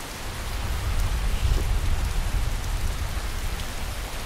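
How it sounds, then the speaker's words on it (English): Heavy rain pouring in the video game Skyrim, a loud, dense wash of rainfall noise with a deep rumbling undertone, steady throughout. "It's raining like a son of a bitch"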